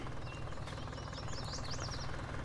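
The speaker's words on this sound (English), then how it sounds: "I'll get it fired up. Jump into this beautiful, beautiful tractor." A 7810 tractor engine in Farming Simulator 19 runs as a steady, knocking, low mechanical rumble at idle, constant and fairly quiet throughout.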